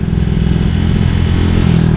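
Motorcycle with a BRT 63mm engine, loud and close, holding a steady high-revving drone with slight clatter throughout, no voices.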